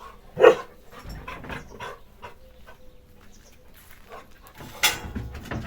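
A dog barks a few times in sharp, separate bursts, fairly close, with quieter whimpering and rustling between barks.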